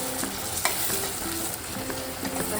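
Tomatoes frying and being stirred in a pan while cooking a crab dish, a steady close sizzle broken by scraping spoon strokes and light clinks throughout, with no voices.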